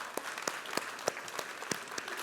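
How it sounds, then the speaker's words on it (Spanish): An audience at a church talk applauds, close rhythmic clapping with distinct sharp hand strikes standing out over a steady bed of many hands. "Ya, un fuerte aplauso a eso."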